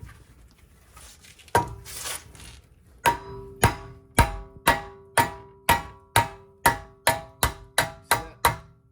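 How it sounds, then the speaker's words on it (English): A hammer pounds a nut threaded back onto a seized wheel bearing of a 2009-2012 Nissan Altima 2.5, ringing metallic clanks, a few scattered then a steady run of about twelve evenly spaced blows, close and loud. "And give it a few good pounds to loosen it up."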